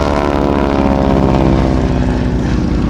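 A North American Harvard trainer aircraft at an air and car show runs its engine and propeller with a loud, steady droning roar that holds unbroken throughout.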